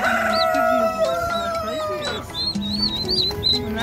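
Chickens at a busy livestock market in Grozny cluck and crow close by, with overlapping squawks and a rooster's call over a murmur of background activity.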